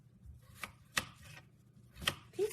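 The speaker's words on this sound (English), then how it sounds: "as I'm chopping these potatoes up" Potatoes being chopped on a cutting board for a slow-cooker beef stew, a few sharp separate knife knocks, close and clear, with no talk.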